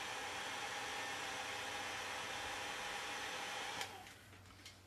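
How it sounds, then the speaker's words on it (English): A hair dryer blows with a steady, loud whooshing hiss, then cuts to a lower setting near the end with a few clicks. "That is the one problem with hairdryer on stream."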